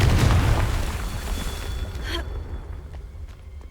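A fiery Confringo spell blast from the Hogwarts Legacy video game, a loud booming explosion with heavy low rumble that bursts at the start and decays over a few seconds, followed by a sharp crackling pop and fading debris.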